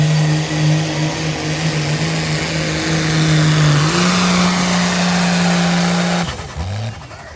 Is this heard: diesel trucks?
yes